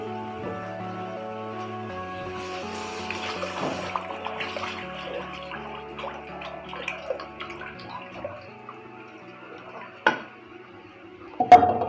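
Lassi pours into a pan with fried ingredients for kadhi, making a soft, steady liquid splash with faint clinks of pan and utensil, then two sharper knocks near the end.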